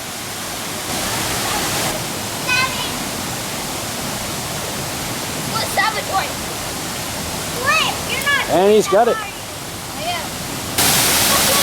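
A small waterfall on a mini golf course splashes as a constant broadband rush, while excited voices and bright chirping bird or whistle-like calls rise over it near the end.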